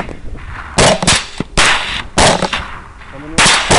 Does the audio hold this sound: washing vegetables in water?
no